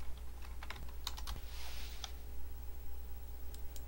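Irregular clicks of fingers typing on a computer keyboard, quiet and close, in short bursts with small pauses over a low steady hum, no voices.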